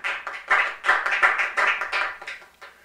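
A church congregation claps and cheers in acclamation of the Lord, with a steady run of loud, overlapping handclaps and crowd noise filling the space throughout.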